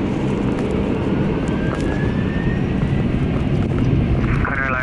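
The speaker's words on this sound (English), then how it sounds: "Take off thrust set." Lufthansa Cargo MD-11F jet engines roar steadily at takeoff thrust, a loud, continuous broadband rumble heard from the cockpit with faint tonal whine rising above it.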